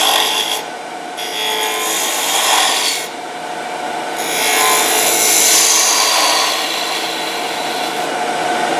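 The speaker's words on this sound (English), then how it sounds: "This is the 3/8" detail gouge, and if you catch it, you can do just right." A 3/8 inch detail gouge cuts a spinning top of wood on a lathe, giving a continuous rasping scrape that swells and fades as the tool is repositioned, with no talk.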